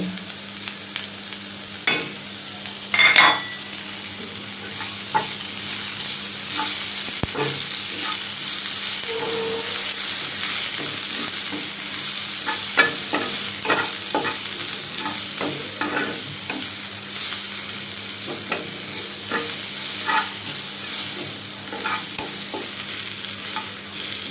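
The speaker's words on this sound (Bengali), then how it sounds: "ধনিয়া পাতাটা দিয়েও একটু ভেজে নিব" Coriander leaves frying in a pan with onion and chilies for garlic bhorta: continuous close sizzling broken by regular spatula scrapes and taps, with no speech.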